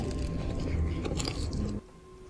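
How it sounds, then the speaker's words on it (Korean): Someone bites into and chews grilled green tea rice cake dipped in grain syrup at a traditional tea house, giving close, soft, moist chewing and slight crunching for under two seconds before it falls quiet. "이렇게 잘 구워진 떡을 포크로 집어서 조청에 찍어서"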